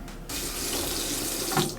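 Water runs steadily from a gym shower, a continuous close hiss after a short quiet start, briefly louder near the end.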